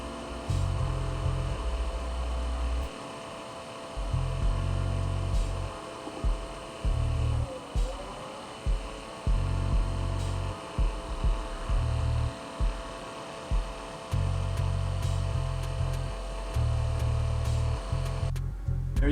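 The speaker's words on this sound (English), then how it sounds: "Thanks for watching Sonoma Leather Strap Cutting Machine, Artisan Strap Cutting Machine." A Sonoma Artisan leather strap cutting machine slicing leather into straps: a loud, steady motor hum that throbs on and off in repeated bursts, close and continuous, with no talking.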